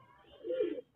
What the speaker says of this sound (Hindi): ये असील कबूतर है पिया।